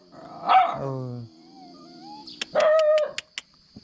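A village dog in a rural hillside settlement barks loudly and close, a long harsh bark with growling tone followed by a quick burst of sharp yips, with no talk.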